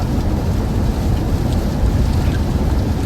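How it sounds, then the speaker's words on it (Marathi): Sudden rain pours onto the Sangameshwar–Devrukh–Sakharpa road as a loud, constant broadband hiss with low rumbling underneath, close and unbroken for the full few seconds. "दोन मिनिटं तुम्हाला पुरं सुक्क दाखवलं आणि लगेच बघा पाऊस"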